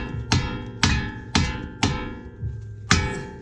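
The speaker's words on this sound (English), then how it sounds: "you can just hammer that" Six sharp metallic hammer blows strike a crown nut on a ball joint during Honda Civic brake work at a steady pace, each ringing briefly before the next hit.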